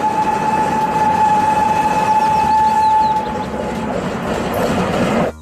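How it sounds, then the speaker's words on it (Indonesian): A small toy Thomas train rattles along with a steady mechanical whir and a sustained high tone, then the running noise drops off near the end. "lihat teman-teman, di sini ada kereta Thomas."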